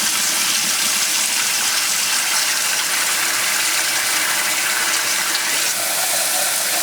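Running water gushes steadily and loudly throughout as rice is rinsed for congee, a continuous broadband splashing stream with a slight drop in intensity near the end.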